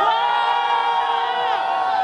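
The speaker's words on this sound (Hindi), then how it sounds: "वो लोग चिल्लाएंगे" A large crowd of guests at a wedding sangeet celebration shouts and cheers together, a loud, sustained wall of voices with some high whoops, continuous for about two seconds.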